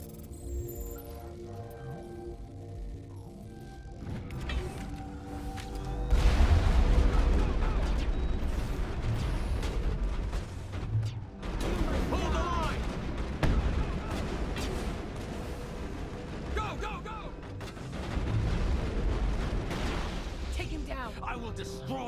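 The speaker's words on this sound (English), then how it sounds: "We can't have any shooting in here." Gunfire and explosive blasts in the Mass Effect video game, several loud bursts of shooting rising over a low droning score, with voices talking between the volleys.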